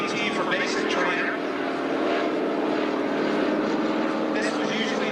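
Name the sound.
L-19D airplane flying in air show demonstration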